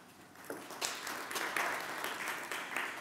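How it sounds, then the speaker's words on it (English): Audience applause welcoming a speaker at a solidarity seminar in a hall, a steady wash of clapping that swells after the first half-second and carries on at even strength throughout. "Please can you welcome him with a round of applause."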